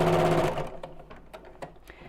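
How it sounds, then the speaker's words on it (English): Sewing machine stitching a bag with bamboo handles from the inside, a short close burst of whirring that stops abruptly, followed by scattered light clicks and taps. "So I'll be sewing from the inside on this bit."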